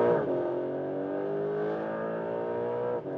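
A Porsche 911 GTS Hybrid on a race track, its engine note a steady, loud, sustained drone with rich harmonics, holding at speed for about three seconds before a brief dip at the end; no talking.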